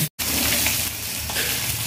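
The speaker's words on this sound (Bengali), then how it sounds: "মাছ ভাজা হোক।" Fish, a freshwater rui-type cut, fries in hot oil with a steady dense sizzle and faint stirring, close and continuous apart from a brief gap near the start, no talking.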